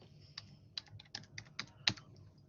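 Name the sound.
typing on a Bluetooth computer keyboard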